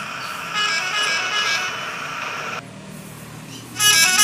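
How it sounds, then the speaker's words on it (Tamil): Loud bus horn in the driving game Bus Simulator Indonesia, sounded in a rainy scene: a sustained multi-tone honk lasting about two seconds, then a pause and a second blast starting near the end. "நம்ம ஹார்ன் அடிச்சு பார்க்கலாம்."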